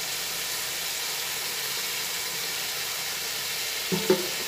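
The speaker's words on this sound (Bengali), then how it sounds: "ভাজতে ভাজতে বেগুন নরম হয়ে আসছে" Brinjal frying in a pan gives a continuous, even sizzle with a soft hiss throughout, and a couple of brief scraping knocks near the end as the pieces are stirred.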